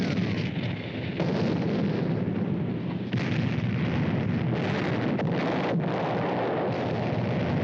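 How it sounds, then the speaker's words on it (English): Artillery and mortar fire from the Battle of Bastogne in wartime footage, a dense, continuous roar of blasts and rumbling detonations with several sharper bursts standing out, loud and sustained with some wind noise. "I'm directing mortar fire on the enemy positions."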